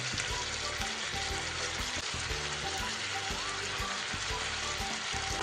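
Chicken and onion fry together in a pan for Kashmiri chicken kanti, giving a dense, steady sizzle with occasional soft stirring clatters.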